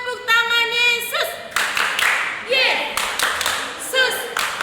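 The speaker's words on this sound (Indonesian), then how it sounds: "Tepuk tangan Yesus." Children clap in rhythmic bursts during a Sunday school service, with sharp group claps between stretches of sung or chanted voices, loud and close in a room.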